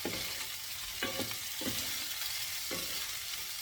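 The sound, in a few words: baby shrimp frying in a pan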